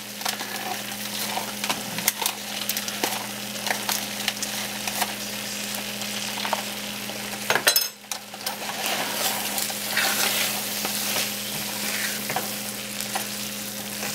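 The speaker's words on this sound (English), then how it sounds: "You give it a few stirs and set it aside off the eye." A pot of mushroom risotto with Parmesan cheese is stirred, giving a steady, fairly loud bubbling hiss with scraping strokes, a brief clatter and dropout near the middle, then the simmering continues.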